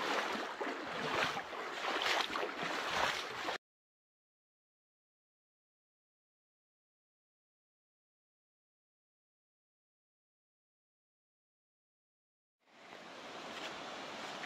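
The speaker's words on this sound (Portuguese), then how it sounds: "pelo barulho, nós estamos chegando aqui em mais uma queda d'água" A waterfall roars along a forest trail as a dense, steady wash of noise that cuts out to complete silence for several seconds, then swells back in.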